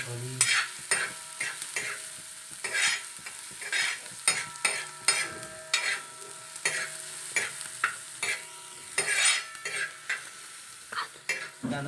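Onion, chili and turmeric frying on a hot tawa for a Konkan-style leafy vegetable dish, with a spatula stirring and scraping in repeated bursts over a continuous close sizzle, no voices.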